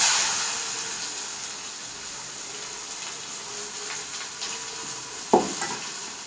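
Onions dropped into hot coconut oil in a pan give off a steady, soft sizzle with light stirring scrapes and a single sharp clink near the end, all fairly quiet.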